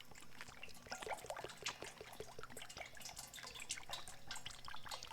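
Used motor oil mixed half and half with diesel pours through a funnel, a quiet steady trickle with dripping and splashing at low level, no talk over it.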